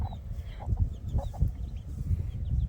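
A hen clucks softly and repeatedly at close range outdoors on a farm. The low, throaty clucks come in an uneven rhythm over a steady ambient rumble.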